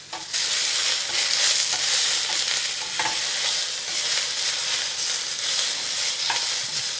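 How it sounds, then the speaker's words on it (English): Scallops and vegetables frying in a pan over medium-high heat for a scallop casserole, stirred around: loud, dense sizzling fills the whole stretch, broken by occasional scrapes and knocks of the stirring, with no voices. "let them cook another minute and then stir them around again. So that's what we'll do now."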